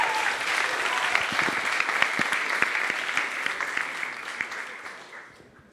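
An audience at a coding bootcamp demo day in Paris applauds a project team, dense sustained clapping that stays even and fairly close before fading away toward the end.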